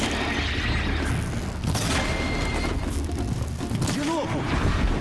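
Weapon fire in the Horizon Zero Dawn video game, repeated booming shots and mechanical clanks amid continuous dense game noise, with a voice speaking at times.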